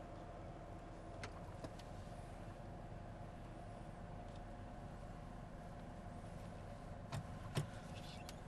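A car driving along a road toward a large shopping-center parking lot, with a steady low engine and road rumble throughout and a couple of faint brief clicks near the end.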